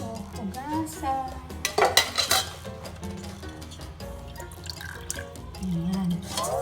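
Cooked sago tapioca pearls are rinsed under a running kitchen tap, with splashing water and clinks of a bowl or strainer, moderately close. Talk comes in near the end.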